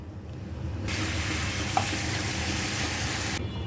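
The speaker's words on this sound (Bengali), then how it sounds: "আগে মুগ ডালটা ভেজে নিব। এটা ভালো করে একটু ভেজে নিব" Mung dal fries in oil in a pan for a Bengali fish-head muri ghonto, a steady, moderately loud sizzle that begins abruptly, carries one small clink partway through, then cuts off near the end.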